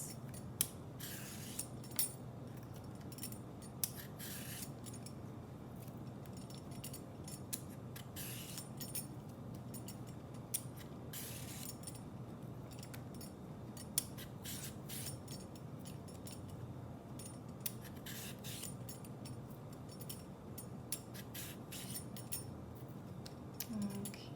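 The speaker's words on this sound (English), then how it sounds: "grab a cutting board and your vegetable peeler, and we're just going to shave off little strips" A vegetable peeler shaves thin strips off a cucumber on a cutting board, producing sharp, repeated scraping strokes at an irregular pace over a low, steady background hum.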